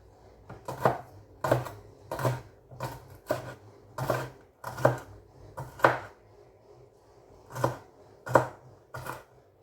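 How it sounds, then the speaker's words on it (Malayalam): Knife chopping green chillies on a cutting board, about a dozen distinct, fairly close taps in an uneven rhythm with short pauses between, no talk. "ഇനി പച്ചമുളകും ഇതുപോലെ ചെറുതായിട്ട് അങ്ങോട്ട് അരിഞ്ഞു"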